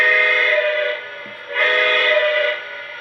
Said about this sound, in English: This is the standard whistle